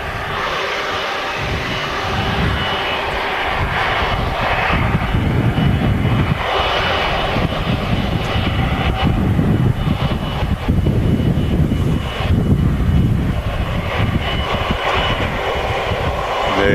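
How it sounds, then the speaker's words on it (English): Kuwait Airways Airbus A330 jet taxiing close by at a windy Manchester Airport, a steady loud engine roar and whine holding throughout with wind buffeting, no talk. "There it is, taxiing right in front of us. Awesome retro looking Kuwait Airways A330."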